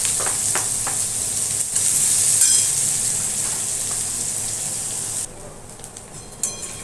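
Chopped onion and green chillies frying in a pan, a loud steady hiss of hot oil with faint stirring taps, dropping to a quieter sizzle partway through.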